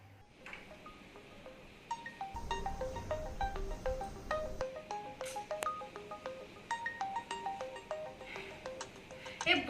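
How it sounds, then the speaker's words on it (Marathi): Phone tones beep in quick repeated patterns for several seconds, a steady electronic melody over low background hum, with no one speaking. "किती वेळचा फोन वाजतोय?"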